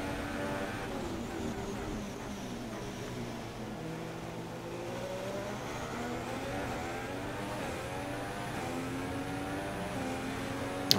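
The engine of a Haas F1 car in F1 2016 hums steadily as the car heads onto the track, with its rising and falling pitch sweeping smoothly under a low background drone, at moderate, consistent loudness.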